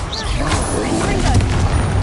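Confringo spell blast in Hogwarts Legacy on PS5: a loud, rumbling magical explosion with a booming low end and crackling debris, continuous and dense throughout under some game noise.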